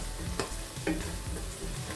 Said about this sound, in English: I'm just going to give this a mix and let those spices to cook in